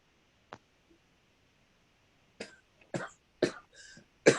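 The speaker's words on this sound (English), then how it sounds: "I have a cough." A person coughs indoors at a book club gathering, several separate dry coughs spaced over a few seconds, close and fairly loud against a quiet room, with one faint cough early on.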